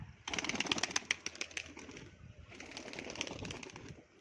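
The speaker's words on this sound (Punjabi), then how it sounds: "ਇਹ ਛੱਡਤੇ ਤੇ ਕਬੂਤਰ ਨੇ ਆਣਾ ਦੇਖਿਓ ਆ ਗਿਆ ਨਾ" A pigeon, released and flying back to a rooftop loft where pigeons are kept, with soft flapping and cooing sounds in bursts over steady outdoor background noise.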